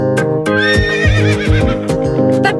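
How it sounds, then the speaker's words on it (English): A horse lets out a loud, close whinny with a wavering, trembling pitch, set over a busy musical backing with regular percussive beats. "The horse says neigh."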